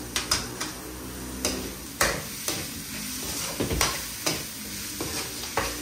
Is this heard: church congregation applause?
no